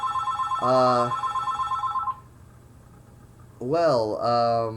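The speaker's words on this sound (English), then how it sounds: "the phone is ringing." A telephone rings indoors in loud electronic bursts, two ring patterns separated by a pause, over a steady background hum.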